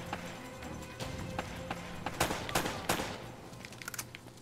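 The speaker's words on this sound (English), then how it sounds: "It's a lot of shooting in this game." Gunfire in Uncharted: Drake's Fortune, scattered sharp shots and short bursts popping over a busy background of movement and clatter, some louder cracks clustered near the middle, with no talk.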